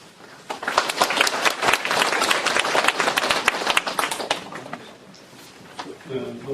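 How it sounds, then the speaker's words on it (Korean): Many hands clap in applause as a speaker is welcomed at a Thursday philosophy and humanities forum, a dense burst that builds and fades toward the end, with a voice beginning to speak as it dies down. "큰 박수 부탁드립니다."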